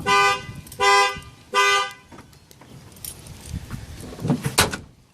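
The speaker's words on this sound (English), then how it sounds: "There's the alarm." A Ford F150's factory alarm sounds three loud, evenly spaced horn honks up close, each about half a second long. Softer clicks and rustling continue after the honks, then a louder clatter near the end.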